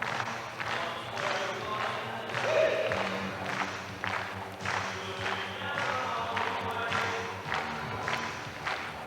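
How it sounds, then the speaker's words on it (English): Crowd at a 1988 Euroskate freestyle street and ramp skateboarding event clapping along in a rhythmic pattern, fairly distant and mixed with general crowd murmur and occasional board noise. "The crowd clapping along again."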